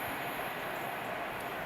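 Class 390 unit 39141 on a Manchester Piccadilly service at Tamworth station, a steady low rumble of the passing train, moderately distant with no voices.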